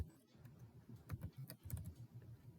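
Quick bursts of keystrokes on a computer keyboard as a short command is typed, close and fairly soft, with no one talking.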